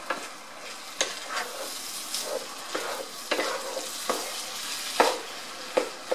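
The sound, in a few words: mixing tomatoes into Spanish rice in pan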